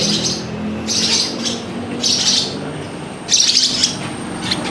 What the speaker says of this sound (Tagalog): It's a 7 weeks bird, lovebird.